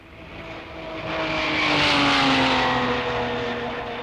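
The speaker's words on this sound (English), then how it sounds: "And here comes the leading Ferrari, Giannino Marzotto, now in second place." Leading Ferrari race car in the 1953 Mille Miglia road race passing by, engine roar swelling to a peak as it nears, then fading away, alone without voices.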